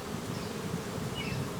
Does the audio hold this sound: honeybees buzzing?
yes